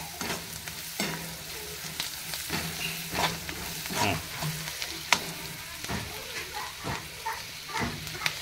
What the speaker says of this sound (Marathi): असं जरा थोडं हलवायचं, जरा थोडं शिजू द्यायचं. म्हणजे जरा थोडं तेलात एक 5 मिनिट असं हे करायचं